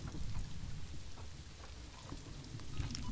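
Steady rainfall in the zoo-building game Planet Zoo, a continuous soft hiss of drops with faint patters and low rumbling underneath, fairly quiet and without voices.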